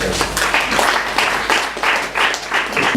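Audience applause at a lecture on violence and conflict, a dense wash of many hands clapping steadily for three seconds, swelling in rhythmic surges, with a faint voice underneath.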